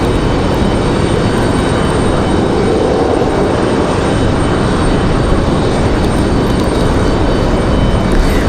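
A SkyWest airliner comes in to land high on approach, its steady broadband engine roar filling the air without a break, loud and sustained throughout with no voices.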